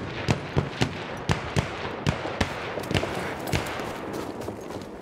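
Enemy machine gun fire in the World War I shooter Battlefield 1: a run of sharp, loud cracking bursts at an uneven rhythm, some close and some a little farther off, over a rumbling battlefield bed with no talk.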